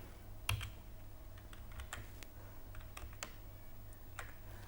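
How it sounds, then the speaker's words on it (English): Keys on a computer keyboard are tapped in scattered, irregular clicks, with short bursts and pauses, quiet and close over a low background hum. "So, we can type street name like this."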